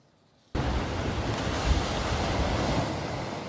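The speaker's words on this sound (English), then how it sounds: "The rugged California coastline in Monterey County with its hazardous surf and strong current" Heavy surf pounding the rugged, hazardous Monterey County coastline in California, a loud, continuous roar of breaking waves that bursts in suddenly and churns on with wind buffeting the microphone.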